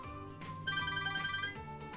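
A telephone on a call-in line rings with a bright electronic ringtone, repeating in short patterned bursts that sound close and clear, with no voices present.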